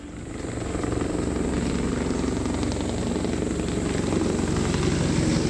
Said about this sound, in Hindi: ये जो आप देख रहे हैं योगी का हेलीकॉप्टर आपकी टेलीविजन स्क्रीन पर सैफई में लैंड करा।